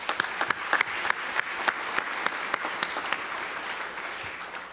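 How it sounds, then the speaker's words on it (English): Audience applause at a Kimmy Duong Foundation scholarship ceremony, steady clapping from a crowd with sharp individual claps standing out, moderately loud and continuous with no voices over it. "Let's give them a round of applause."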